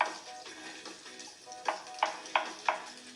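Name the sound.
sliced button mushrooms sizzling in a hot pan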